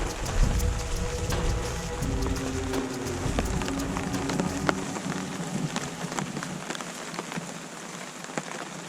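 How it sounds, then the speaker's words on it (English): Rain falls steadily at a camp, a continuous hiss of drops pattering on surfaces with occasional sharper taps, close and unbroken throughout. "It just rained constantly."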